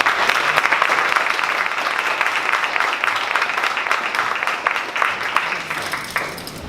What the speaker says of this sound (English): can we get a round of applause for Neela?